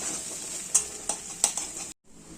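Ginger and garlic frying in a pan for chole, with a steady close sizzle and several sharp spatula scrapes and taps before a sudden brief silence.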